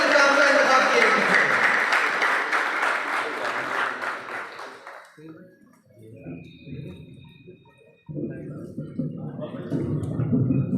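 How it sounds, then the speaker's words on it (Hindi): Audience applause at an award ceremony: a loud, dense burst of clapping that thins out and fades, then picks up again with mixed crowd noise and talk near the end. "इनके लिए बहुत सारी तालियां"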